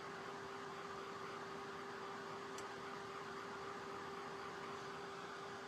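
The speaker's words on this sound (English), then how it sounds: "Let me go ahead and hit it with the dryer real quick." A steady, close-up blowing whir of a hair dryer drying paint on shelf decorations runs without a break, with a constant hum and broadband airy hiss.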